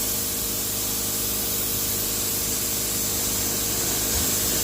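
A paint spray gun hisses steadily from its nozzle while custom paint goes onto a Mazda RX4, a continuous broadband spray held close and loud for the whole stretch with no pauses.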